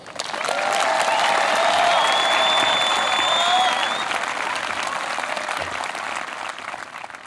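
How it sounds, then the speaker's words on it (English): A crowd at a high school graduation ceremony breaks into loud, sustained applause, the clapping swelling at first and then easing slightly as it carries on for several seconds. "Please join me as we honor this group with a round of applause."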